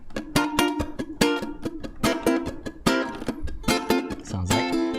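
A ʻukulele strums a song at a live club performance in Hawaiʻi, steady rhythmic chords played alone and close.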